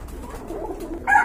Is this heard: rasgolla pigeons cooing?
yes